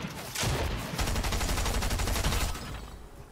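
Submachine gun fire in a Fortnite Chapter 3 solo match rattles in one long, loud burst of rapid shots lasting over two seconds, followed by a brief quieter tail.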